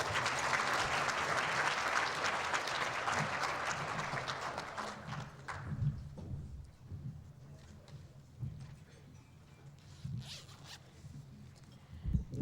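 Gala audience applauding award achievers: a dense round of clapping for about five seconds fades into scattered claps, low murmuring and rustling noise from the room.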